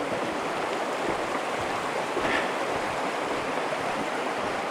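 Nickel Creek rushes along a backcountry trail in a steady broadband wash of flowing water, close and constant, with no voices over it.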